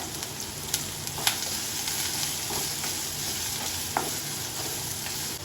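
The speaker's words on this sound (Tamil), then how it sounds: "வெங்காயம் போட்டு நல்லா வதக்கிக்கோங்க." Onions sauté in a pan with chopped green chilies and curry leaves, giving a continuous close sizzle and crackle, with a few soft scrapes and taps from stirring.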